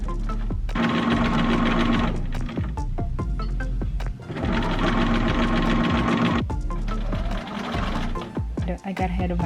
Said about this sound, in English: let's go ahead and go to the sewing machine.